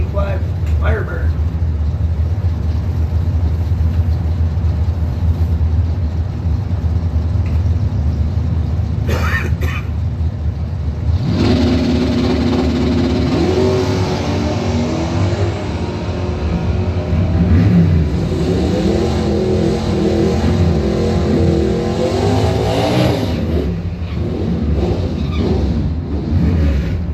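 A 1972 Nova and a 1985 Firebird drag racing engines rumble and rev loudly nearby, with bursts of acceleration rising over a continuous roar.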